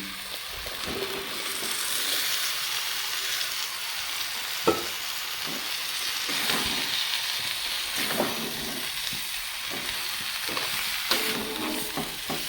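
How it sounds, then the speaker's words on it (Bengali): Mixed vegetables frying in a pan for a dhaba-style mix veg, a loud continuous hissing sizzle with occasional stirring clinks and scrapes throughout, no talking. "বাকি সবজিগুলো দিয়ে দেবো"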